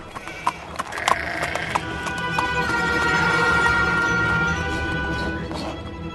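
A ridden donkey's hooves clip-clop in a steady rhythm, close and fairly loud, mixed with animal calls and a sustained tonal background.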